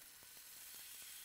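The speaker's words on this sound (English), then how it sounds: "There's that sizzle." A steady, hissing sizzle of salmon frying in a hot pan, soft and continuous with faint crackles, no voices.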